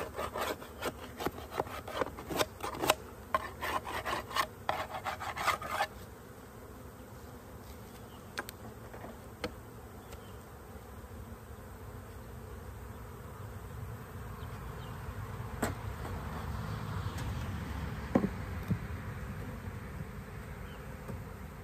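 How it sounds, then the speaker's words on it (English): A small honeybee swarm buzzes around a hive, the drone steady throughout. Sharp wooden knocks and scrapes break in at the start, and a few isolated taps follow. "They're not that big a swarm."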